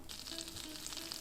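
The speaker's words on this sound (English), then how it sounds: "You're gonna place 1 tablespoon of butter on your pan" Butter, one tablespoon, melting in a pan with a soft, steady sizzle and faint crackle, quiet and continuous without pauses.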